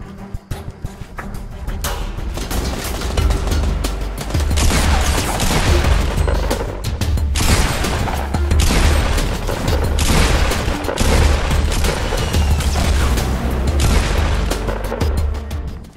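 Rapid gunfire in a Fortnite match, loud bursts of shots and booms hammering in clustered volleys with brief gaps, close and dense for most of the stretch.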